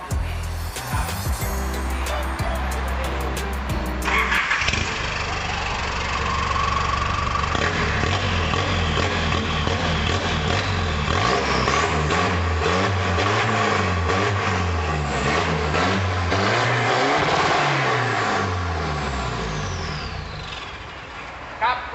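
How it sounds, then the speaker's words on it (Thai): A lifted pickup truck engine turns over and settles into a loud, rough idle that swells with repeated revs, continuous and close throughout. "เดี๋ยวผมเดินไปสตาร์ทเครื่องเลยนะ"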